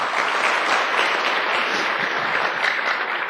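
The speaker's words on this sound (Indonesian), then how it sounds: "Aplaus buat Anda semua." Audience applause at an MLM motivational seminar, a dense steady clapping from a crowd that fills the whole stretch without pause, loud and close.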